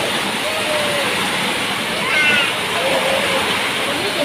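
Floodwater rushes in a continuous loud roar during Typhoon Carina in Quezon City, with faint voices and brief squeaks over it.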